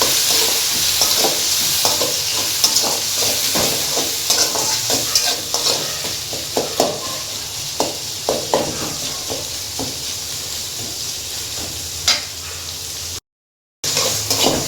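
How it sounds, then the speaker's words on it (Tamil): Tomatoes sautéing in a frying pan for a bean side dish, with steady sizzle and repeated clicks of a spoon stirring against the pan, close and fairly loud, with no talking. "நம்ம தக்காளி சேர்த்துக்கலாம் தக்காளி நல்லா வதக்கலாம்"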